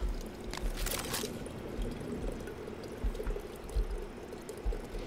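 Water drinking in the video game Prey, a steady pouring and trickling flow under a low ambient hum, with a brief brighter splash near the start.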